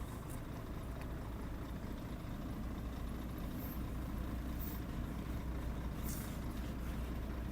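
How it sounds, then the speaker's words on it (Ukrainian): A Volvo dump truck rolling slowly up to a trailer, its diesel engine a steady low rumble heard from inside or close by, with faint high hissy bursts now and then and no talk. "Під'їжджає наше Вольво до прицепа."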